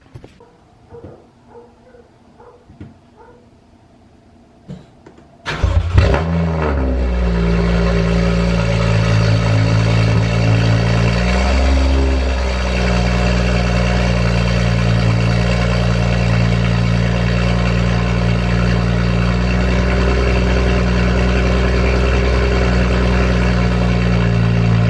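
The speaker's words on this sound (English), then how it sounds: "let's go ahead and get a cold start going on the Beamer" A BMW's cold start: a sudden loud exhaust bark and rev on ignition, then a steady, loud, rumbling idle that holds for the rest of the clip, with no talking.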